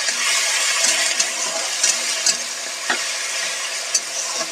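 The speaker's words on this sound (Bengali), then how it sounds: "আদা রসুনটা একটু ভেজে নিয়ে তারপর টমেটো গ্রেড করা টমেটোটাকে অ্যাড করে দিচ্ছি" Ginger, garlic and grated tomato fry in a pan with a steady, bright sizzle, close up, broken by occasional small clicks and taps from stirring.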